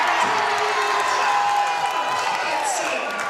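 High school basketball crowd cheering in the gym at Bishop Walsh: a loud, sustained roar of voices with whoops and shouts, and a commentator talking over it.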